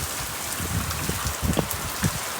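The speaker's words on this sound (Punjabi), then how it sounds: "ਮੀਂਹ ਮੀਂਹ ਹੋ ਗਿਆ ਆ" Steady rain pours down with scattered heavier drips and splashes landing close by, a dense continuous hiss.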